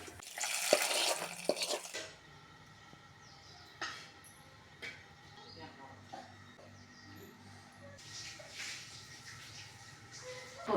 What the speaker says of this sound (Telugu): తాలింపు వేగిపోయిందండి ఇప్పుడు పప్పులు వేసుకుందామండి